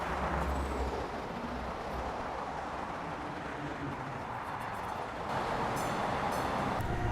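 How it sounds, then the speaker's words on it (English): T-Line train at a station, a steady low rumble and hiss of rail cars with faint air-brake squeal and clanks rising toward the end, heard from some distance with no talking. "Oh, the train's way further than I thought it was."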